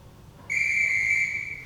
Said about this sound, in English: Whistle means 15 seconds.